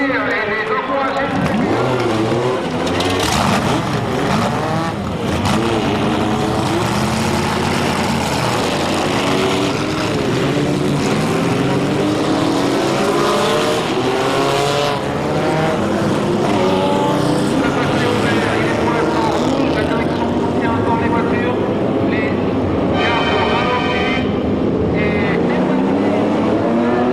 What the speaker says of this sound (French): 52 véhicules historiques de course viennent de s'élancer, moteur hurlant, sur le circuit Paul Ricard du Castellet